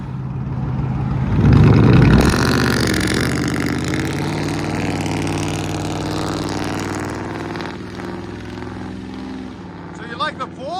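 Two revving trucks, a straight-piped 2004 Ford F-150 with a 5.4L Triton V8 and a true-dual-exhaust Toyota Tundra, roar loudly in a sustained blast that peaks early and then holds a steady growl, with voices talking over the engines.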